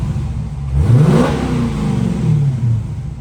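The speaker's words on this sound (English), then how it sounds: "I'm going to go ahead and open the door here and give it a couple revs for you guys" A 2019 Dodge Challenger SRT 392 Widebody with a 6.4-liter Hemi V8 and six-speed manual, revved twice from idle with the door open, rising and falling in deep bursts, close and loud.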